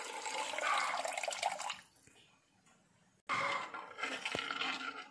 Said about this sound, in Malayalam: അതിൻ്റെ ഒരൽപ്പം വെള്ളം കൂടി ഒഴിച്ച് കൊടുക്കാം.